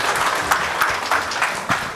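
Moderate audience applause at a book launch, individual claps popping out of a steady patter that swells and dips over a couple of seconds, with no talking.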